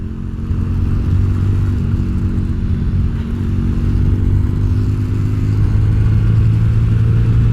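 A Budget Bobber motorcycle with a modified carburetor slide runs loud and close, its engine holding a steady rumbling note with slight rises in revs throughout, no voices over it.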